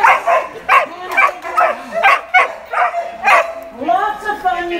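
Dogs of different sizes bark in a quick, uneven series of loud yips and woofs during a dog training session, with a whine or whimper near the end.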